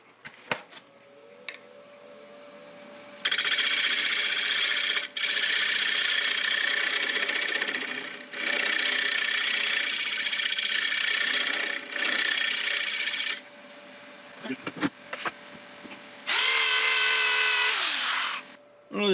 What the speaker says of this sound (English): Now I'm going to scrape it a little bit because it's got a little bit of an edge. And I'll use the dreaded carbide for that.